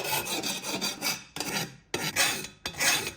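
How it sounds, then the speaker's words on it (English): Hand file scraping burrs from cut steel of an old fire extinguisher, heard as four close, rhythmic rasping strokes separated by short pauses. "We'll remove any burrs."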